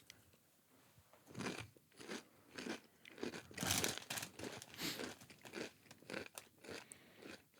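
Crunchy protein-rich crisps are chewed up close, with loud irregular crunches and crackles repeating for several seconds, alone and with no talk.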